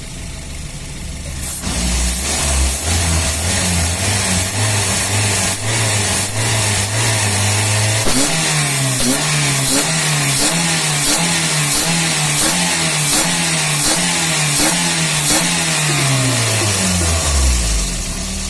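A motorcycle engine freshly tuned up and revved hard, loud and close, its pitch climbing and falling through repeated throttle blips over a steady running base, with no talk.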